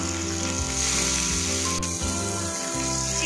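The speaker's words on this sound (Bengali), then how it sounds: "চিকেনটা আমি মশলার সাথে ভাজা ভাজা করে নেব।" Chicken frying with onion, ginger, garlic and spices in a pan, a loud, continuous close sizzle with a faint steady hum beneath it.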